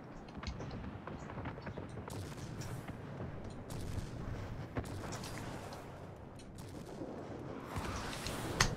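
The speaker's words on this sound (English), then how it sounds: "So you saw I was firing 2 to 3 seconds, but 3 bursts there." Soviet warplane guns fire in short repeated bursts of rapid gunfire in the World of Warplanes video game, sharp and fairly close over a constant engine drone.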